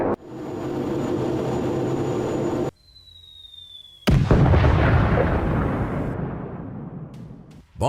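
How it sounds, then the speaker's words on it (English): A glide bomb dropped by a Su-24 strikes buildings in a war zone, a sudden loud, deep blast followed by a long rumbling roar that slowly fades, after a muffled stretch. "Bomb hits the buildings, resulting in massive detonation."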